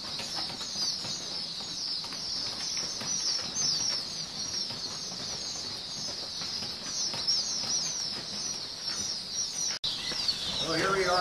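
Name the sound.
young pheasant chicks in a rearing pen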